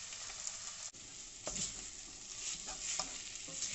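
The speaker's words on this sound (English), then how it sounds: "Just break that up with a wooden spoon. You want it nice and hot to get a proper crust." Sausage frying in a hot pan while a wooden spoon breaks it up: a constant sizzle with repeated soft scraping and tapping strokes, one sharp knock early on.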